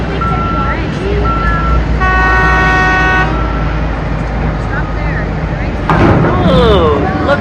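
Coal mine haul truck in B.C.'s Elk Valley reversing, with a few short beeps and then one sustained horn blast that signals the dump, over a steady engine rumble, followed by a brief stretch of voices.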